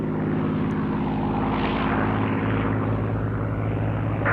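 A Supermarine Spitfire flies past during an evening air display at Shuttleworth, its piston engine giving a loud, sustained propeller drone that swells slightly and holds steady without any talking.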